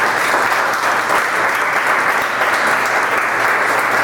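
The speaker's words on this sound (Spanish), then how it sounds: "le damos un aplauso." Dense, steady applause from an audience at a book talk, loud and close, a continuous crackle of many hands that fills the room without a break and with no voices over it.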